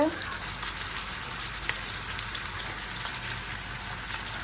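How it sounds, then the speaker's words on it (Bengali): Potatoes, shrimp, onion, garlic and green chili sizzle steadily in hot oil, a dense continuous frying hiss with faint crackles, close and even throughout. "পেঁয়াজ রসুন আর একটা কাঁচামরিচ দিয়ে আলু দিয়ে ভাজতেছি"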